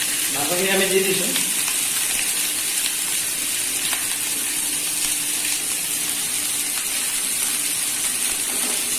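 Chicken pieces with onion and chilli fry in a pan for an Assamese chicken dish with rice flour, a steady close sizzle running throughout with a brief stirring burst near the start and a faint voice in the background.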